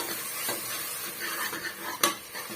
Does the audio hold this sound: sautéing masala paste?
yes